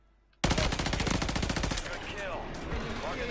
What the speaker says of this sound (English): Careful, someone's sniping.